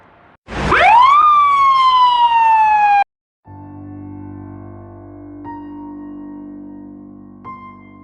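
An ambulance siren bursts in with a loud, rising electronic wail that holds for about two and a half seconds, then cuts off abruptly, leaving a quieter steady drone.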